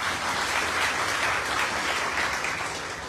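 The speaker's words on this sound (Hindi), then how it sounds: "आप सभी के लिए एक बार जोरदार तालियां बनती है" An audience at a debt-relief campaign gathering in India claps with vigor. The applause is a dense, even wash of many hands and holds steady through the whole stretch.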